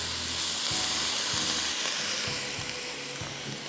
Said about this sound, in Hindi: इसमें हम सूरी का सोया सॉस डाल रहे हैं पहले 1 टेबलस्पून।